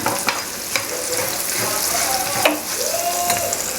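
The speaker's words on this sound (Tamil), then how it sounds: "லெமன் சாதம் தாளிப்பு இதுதான் ஃப்ரெண்ட்ஸ்" Spices for lemon rice tempering in hot oil, a steady loud sizzle and crackle with a few sharper pops and stirring scrapes, close and continuous with no voices.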